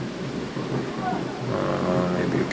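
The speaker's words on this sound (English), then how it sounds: "it just started to rain." Summer rain falls steadily outside, a soft continuous hiss of drops with a low rumbling undertone, heard indoors at moderate distance with no one talking.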